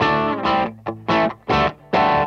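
Electric guitar through an amplifier with its clean-ish base tone before an overdrive pedal is added, a few strummed chords played in short rhythmic bursts with brief gaps, loud and close.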